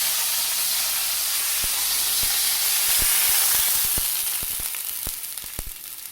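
Mustard seeds spluttering in hot oil while tempering for rasam, a dense steady sizzle laced with sharp irregular pops and crackles that grow more frequent toward the end.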